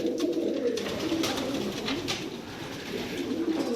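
Saya-breed pigeons coo steadily inside a loft, a low layered burbling from several birds close by with no talk.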